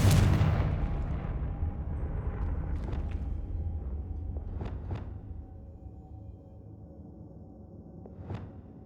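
A Confringo fire spell from Hogwarts Legacy goes off as a loud, sudden blast at the start and fades into a long rumbling decay, followed by a few small sharp pops and hisses.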